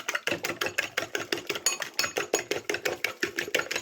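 Two eggs being beaten for a potato omelette, a fast, even run of utensil clicks against a bowl, about four strokes per second, close and alone.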